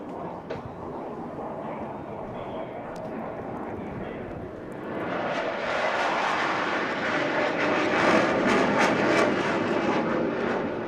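A Saab Draken jet fighter at the 2024 Eastbourne International Airshow starts as a low rumble, then swells about halfway through into a loud, tearing jet roar, with a commentator's voice heard over it.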